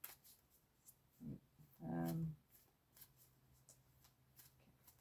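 Close, quiet ASMR shuffling of a tarot deck, with soft riffles and one fuller burst of card noise, alongside soft speech.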